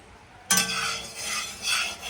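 Spiny gourd (kakrol) pieces, rubbed with salt and turmeric, drop into hot oil with a sudden sizzle that carries on as steady frying, with a faint clink of a utensil near the pan.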